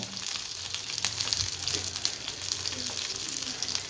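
Fish frying in hot oil with curry leaves and fennel seeds for a masala fish fry, a steady close sizzle and crackle running unbroken throughout at a moderate level.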